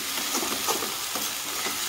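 Spice paste for a shrimp and lentil dish fries in a pan, a steady close sizzle with soft stirring scrapes and faint crackles throughout, no talking.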